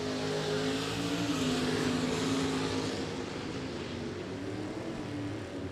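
Cuda and Chevelle hot rods drag racing side by side at a California hot rod reunion, a loud, sustained engine roar that holds steady and then eases slightly toward the end.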